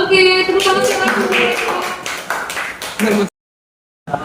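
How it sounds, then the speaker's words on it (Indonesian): Students in a classroom clap for a group, a brief burst of scattered hand claps mixed with voices and chatter, cutting off abruptly before a faint restart. "Oke, tepuk tangan untuk kelompok 4."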